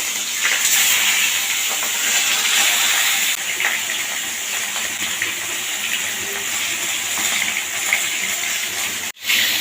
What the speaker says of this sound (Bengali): তেলটা আমার গরম হয়ে গেছে মাছের মাথাগুলো আমি ভেজে নেব